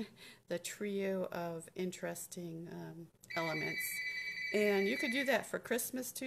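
A telephone rings with a steady electronic tone that starts midway and continues while a person keeps talking over it.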